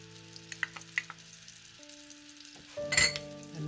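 Ingredients for a breakfast casserole stirred and mixed in a pan, light clinks and scrapes over a faint background hum, ending in a louder burst of clattering and scraping; no speech.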